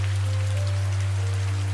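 Steady rain falls throughout, a dense hiss of drops on a surface with a constant low hum underneath; no voices.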